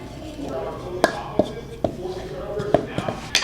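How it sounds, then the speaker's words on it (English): A wooden spoon mixes dough in a bowl, making irregular knocks and taps against the bowl's sides, with a voice faintly present in the background. "Then you're gonna take your wooden spoon and mix that around."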